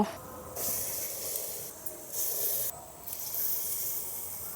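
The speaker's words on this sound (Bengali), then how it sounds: "এবার যে আমি আগে থেকে বেসনটা ফেটিয়ে রেখেছিলাম, এবার আমি তেলের মধ্যে দিয়ে দেব" Besan (gram flour) batter hitting hot oil in a kadai while cooking lau shak chorchori, giving bursts of loud broadband hissing sizzle that swell and ease back in waves, with no voices.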